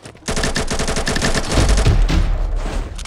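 In the Combat Master battle royale game, an AK rifle fires rapid, loud full-auto bursts. The dense volley runs for almost three seconds with heavy low-end impacts midway.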